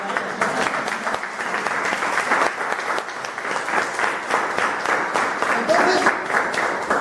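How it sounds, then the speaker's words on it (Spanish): A church congregation applauds loudly and steadily throughout, with voices mixed in among the clapping. "Dale un fuerte aplauso."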